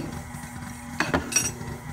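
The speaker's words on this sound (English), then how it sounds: "we may have to scrape down the sides" Utensil scraping and clinking against a mixing bowl of buttermilk cake batter for an Appalachian apple stack cake, a low mixer-like hum underneath and a few sharp metallic scrapes and clinks near the middle.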